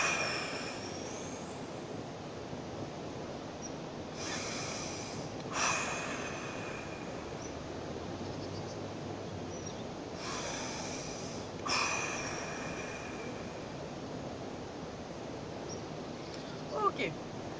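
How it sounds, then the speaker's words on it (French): Three slow, deep breaths drawn and released during an outdoor morning breathing exercise in the Hautes-Alpes, each a soft, airy rush spaced a few seconds apart over faint background noise. "Donc 3 très grandes respirations."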